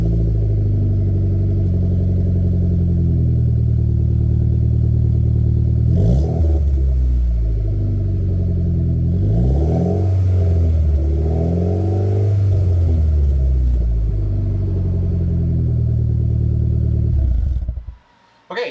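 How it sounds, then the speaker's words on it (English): A Mitsubishi Lancer Evolution X with an HKS catback exhaust and its silencer removed idles with a loud, deep, droning burble, broken by a few throttle blips and revs before cutting off abruptly near the end. "this is what it sounds like with the silencer not installed"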